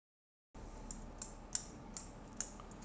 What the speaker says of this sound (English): You hear the click. It's connected firmly.